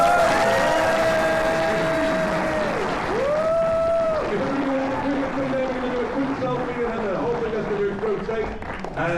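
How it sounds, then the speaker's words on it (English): A comic con crowd applauds steadily and loudly, with sustained tonal sounds running over the clapping throughout. "Big round of applause for Michael Winslow."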